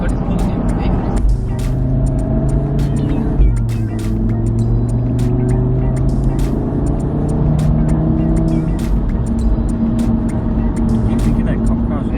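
Audi RS3 8V pulling hard through a big gear, its engine note climbing steadily and loud from inside the car, with occupants talking and exclaiming over the drone throughout.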